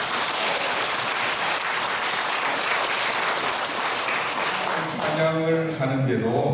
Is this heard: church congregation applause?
yes